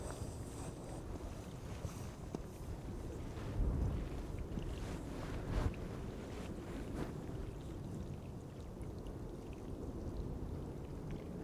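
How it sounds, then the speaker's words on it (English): Steady wind gusting across an open airport apron, a broad continuous rush with a couple of stronger buffets, no voices present. "the wind is picking up"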